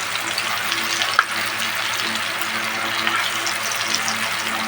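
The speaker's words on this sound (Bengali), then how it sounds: "তো এগুলো এখন ভাজা হবে" Slices of elephant foot yam fry in a pan with a steady, close sizzle of hot oil, broken by a single sharp click early on and otherwise continuous, with nobody talking.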